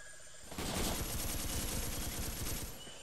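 Rapid bursts of automatic gunfire in the Vietnam-era military shooter Arma 3, starting abruptly after a quiet lead-in and continuing loud and dense with fast repeating shots throughout.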